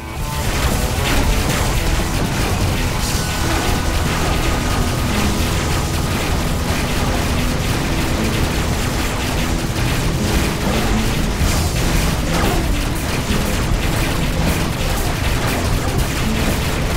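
Dense, continuous barrage of explosions and weapon fire during space combat in the video game Rebel Galaxy, loud and unbroken throughout with layered booms.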